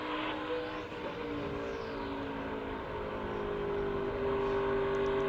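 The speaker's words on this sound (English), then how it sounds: "the trucks with all the drag and less horsepower, and you hear the RPMs way down" NASCAR Truck Series race engine heard off-throttle through a turn, its steady hum with RPMs falling away, loud and continuous with no talk.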